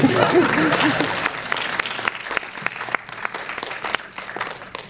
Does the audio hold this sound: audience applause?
yes